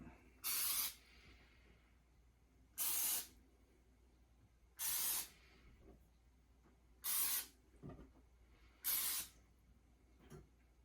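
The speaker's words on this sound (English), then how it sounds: "I'm gonna spray these first with a little olive oil." Five short bursts of olive oil spray hiss onto tomatoes at steady intervals, close by, with quiet pauses and faint handling sounds between them.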